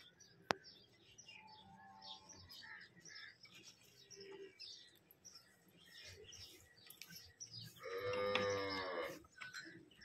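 A Red Friesian Cholistani cross cow in Punjab lets out one loud, drawn-out moo near the end, after quiet stretches of scattered bird chirps in the open air.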